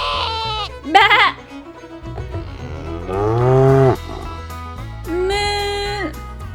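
A cow gives a long, loud, close moo amid other farm animal calls, including bleats, over a faint, steady musical backing.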